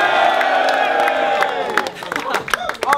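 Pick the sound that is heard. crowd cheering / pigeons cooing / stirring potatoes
crowd cheering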